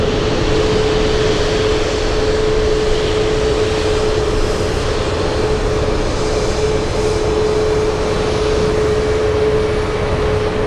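A Southwest Airlines jet at Anchorage airport produces a continuous, loud, broad roar with a steady whining tone running through it, unchanging and close throughout, with no talking.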